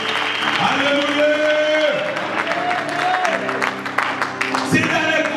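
A church congregation applauding and cheering for Jesus, steady clapping and crowd noise throughout, under singing and a voice speaking.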